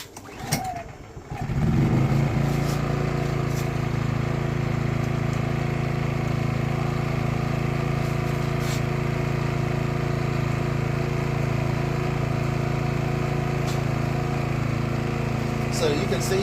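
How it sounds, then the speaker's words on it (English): A LIFAN 2000W pure sine wave generator is cranked; its small engine catches after a brief pull and settles into a steady, even hum, with someone talking over it. "now I'm going to go ahead and crank the generator"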